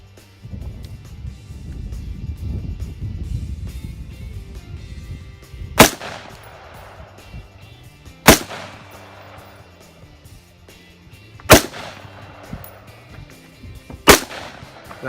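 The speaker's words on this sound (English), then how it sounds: "here's Amy shooting the Ruger AR 556." Ruger AR-556 rifle fired at a target about 25 to 30 yards out: four sharp, loud single shots spaced a few seconds apart, following some low rumbling and background noise.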